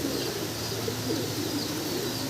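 A pair of red Kormona pigeons at a pigeon farm gives faint, throaty coos, partly buried under a dense, steady background hiss.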